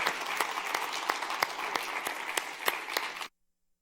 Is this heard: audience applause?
yes